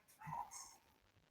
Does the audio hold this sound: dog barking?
yes